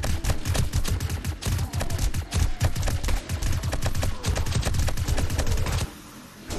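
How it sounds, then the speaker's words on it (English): Gunfire in 7 Days to Die during a horde night at a reinforced steel base: rapid repeated shots in a steady stream, loud and close, stopping briefly near the end before resuming. "I just need to keep firing in the same spot."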